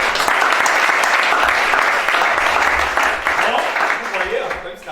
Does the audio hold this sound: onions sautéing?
no